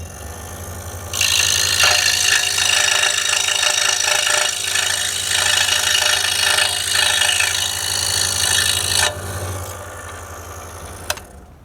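A power tool cuts off the end of a model float plane's cone in one steady, loud, buzzing run lasting several seconds, then stops abruptly with a brief tick after.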